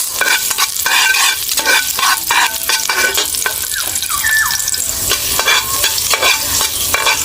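Onion and garlic sautéing in a pan for a snail dish, a bright continuous sizzle with frequent scraping stirs and small clinks, close and loud throughout, no voices.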